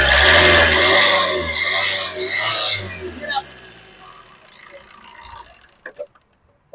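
A 2018 Maruti Suzuki S-Cross Alpha engine revs as the accelerator is pressed, a loud rising-then-falling harmonic roar that fades to quiet idle, followed by a few faint clicks and taps.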